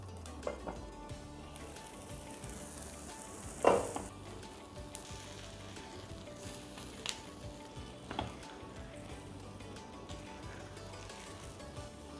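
Wheat appam batter frying in melted ghee in the wells of an appam pan, a faint, steady close sizzle with a few scattered clicks and one brief louder tap.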